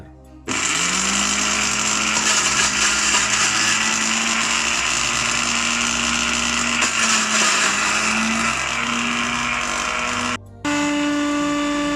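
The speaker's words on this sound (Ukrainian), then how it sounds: "Коли все порізали, закидаємо у блендер." A kitchen blender grinds chopped ginger, lemon and honey in a loud, steady whir that runs continuously for about ten seconds, with a brief stop near the end before it resumes.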